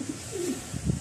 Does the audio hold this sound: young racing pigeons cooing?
yes